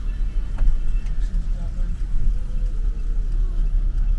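Low, steady engine drone of a camper van with an added leaf-spring upgrade rolling slowly into a parking lot, with people talking over the rumble.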